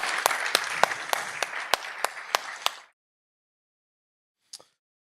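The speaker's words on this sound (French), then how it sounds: "je pense qu'on peut les applaudir pour les remercier" An audience applauds at an opening session of a conference, dense clapping with sharp individual claps standing out, lasting nearly three seconds before cutting off into silence, followed by one brief faint clap sound.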